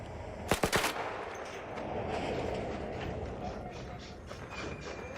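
A short burst of three or four sharp, loud gunshots from the ARC Raiders game rings out near the start, followed by a rumbling mechanical background that lingers for several seconds.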